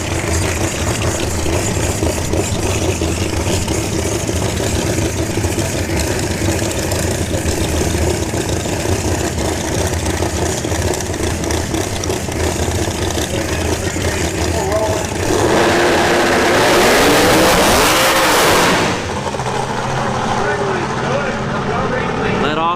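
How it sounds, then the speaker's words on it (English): A twin-turbo V8 240 drag car at a drag strip idles with a steady, loud rumble, then revs sharply near the end before settling back. People talk over the engine noise. "Got the 240 from last night with the V8 twin turbo."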